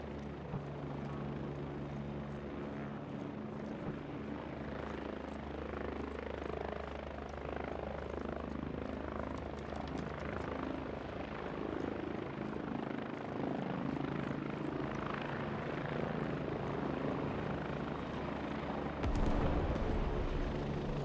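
A helicopter flies in the military shooter game Squad, its rotor and engine a continuous low drone with a steady thrum, moderately close and unbroken, ending in a sudden louder swell.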